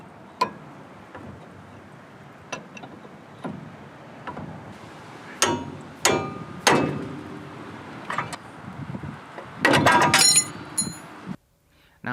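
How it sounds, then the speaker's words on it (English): Hammer strikes on a pickle fork separating a tie rod from the center link on a 1977 Chevrolet truck steering system, sharp metallic bangs spaced irregularly, then a quick burst of rapid blows, close in a quiet garage. "You basically just put it in there and then go to town with a hammer, and it will separate the tie rod from the center link"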